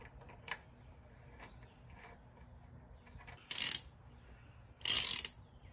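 Ratchet tightening the crank cover bolts on a Royal Enfield 350cc motorcycle: two short bursts of clicking, close and fairly quiet, after light mechanical handling noises in an otherwise quiet garage.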